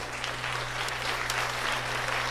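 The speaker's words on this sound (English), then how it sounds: "The crowd clapped with delight, but Beatrice noticed" Crowd clapping with delight during a children's story performance, a steady dense wash of applause throughout with a low hum beneath.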